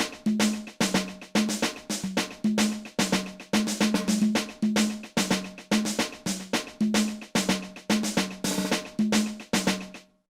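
Looping sebene-style drum pattern programmed with Legacy real-drum samples plays alone, a steady run of sharp repeated hits with the RD clave mixed low beneath, dense and loud throughout before cutting off at the end.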